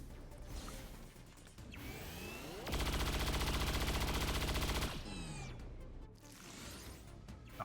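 Cyclic fire against a super heavy mech in Long War of the Chosen: a loud, rapid automatic burst lasting about two seconds, framed by other game sound effects and rising whooshing tones before and after.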